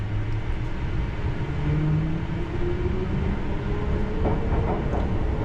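A London Underground Piccadilly Line train runs toward Green Park at a 30 mph limit, a steady close rumble and whine of wheels and motors with faint rail clatter and no talk.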